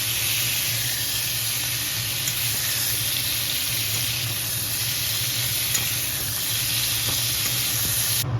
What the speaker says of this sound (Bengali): তাহলে পটলটাকেও ভেজে নিচ্ছি